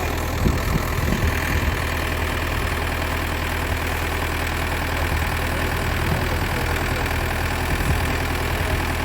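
A broken-down car's engine idles after being restarted with a tractor's help, a steady low rumble with slight knocking, running continuously at a constant level with no voices.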